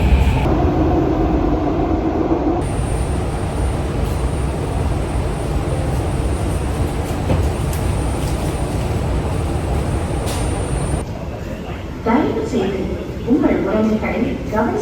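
Singapore subway train running with a steady, loud rumble and rolling noise throughout, a high whine above it, and brief changes in tone near the end as the ride goes on.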